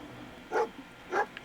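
A dog barks twice in the video game Fallout 4, two clear barks about half a second apart, moderately close over a low steady background.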